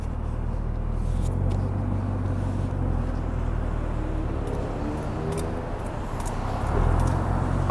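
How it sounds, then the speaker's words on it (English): Heard from inside the cabin, a 2017 Chevrolet Camaro ZL1 turns right with a suspected factory wheel or tire issue: steady low road rumble with a faint rubbing drone that swells slightly toward the end. No talking. "Listen to the tire only when I turn right"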